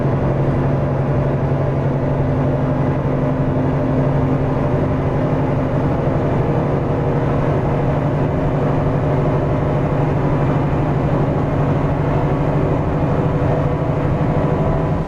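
A Kenworth W900 truck engine drones steadily on the road, a continuous low, loud rumble with a constant hum and no breaks.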